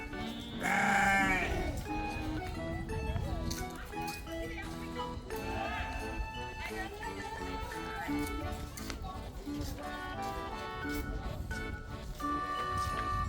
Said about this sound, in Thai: แกะกับแพะอ่ะ